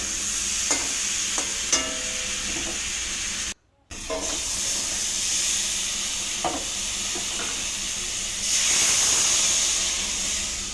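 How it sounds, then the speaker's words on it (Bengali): Spice paste frying in a pan and being stirred, giving a steady close sizzling hiss with scattered scraping clicks from the spoon and one brief break in the middle. "মশলাটা যে ভাজা ভাজা হয়ে গেছে"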